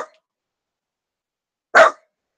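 A dog gives two short, sharp barks, one clipped at the very start and a louder one after a pause, near and alone in silence.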